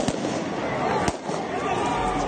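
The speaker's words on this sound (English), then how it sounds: "These are not warning shots." Police fire gunshots at stone-throwing protesters in Shahryar, Iran, with two sharp cracks standing out over a dense, noisy crowd din and voices.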